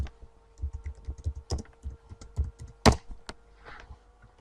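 Typing on a computer keyboard while searching for a McDonald's video game: a quiet, irregular run of separate key clicks with one sharper tap near the end.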